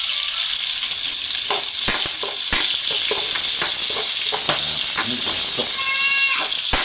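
Baguio beans (green beans) sizzle steadily in a hot pan while being sautéed, with scattered pops and clatters from stirring throughout.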